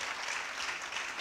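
A short burst of steady applause from a crowd, even and continuous, moderately loud.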